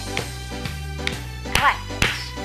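Two sharp hand claps ring out near the end of a short stretch of a seated, chair-based cardio class for older adults, heard over upbeat background music.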